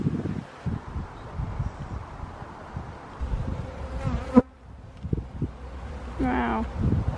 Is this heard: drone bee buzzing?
yes